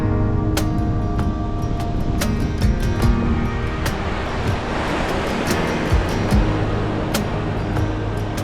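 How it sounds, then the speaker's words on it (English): Steady broadband rushing of a waterfall beside a mountain highway, heard with a vehicle's idling engine hum and a few clicks, continuous and fairly loud throughout. "You're stopping me right at a waterfall?"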